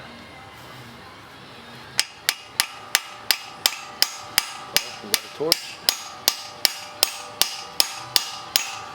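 A hammer strikes a hardened steel ARP bolt in a steady, evenly spaced series of sharp, ringing blows; a voice speaks briefly among the strikes.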